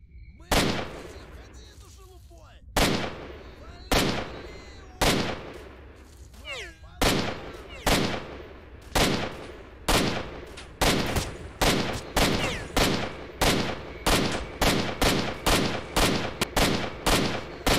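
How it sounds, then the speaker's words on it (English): Enemy gunfire in the video game Stalker: Shadow of Chernobyl, a long run of loud, sharp shots that start spaced out and quicken into a rapid, steady volley, with faint talk in the background. "Yeah, they're shooting at me already."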